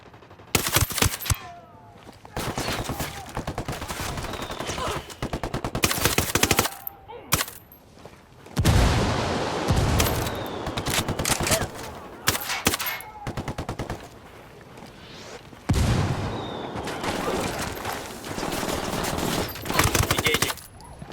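Heavy gunfire in an attack in the game Ghost Recon Wildlands, with loud bursts of machine-gun fire and gunshots in several waves, close and dense, separated by brief lulls.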